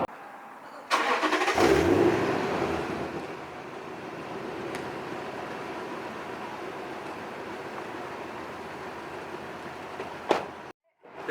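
A Toyota Tundra with dual exhaust accelerates uphill, its engine rising in a loud roar, then settling into a steady, sustained drone before a brief drop near the end.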